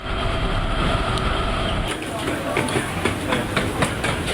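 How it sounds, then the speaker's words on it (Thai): An automated people mover train at Suvarnabhumi Airport running along its track, a loud continuous rumble with rhythmic clacking, wheel noise and shifting tones as the cars roll through. "มีรถไฟฟ้า APM ขนส่งผู้โดยสารอัตโนมัติ"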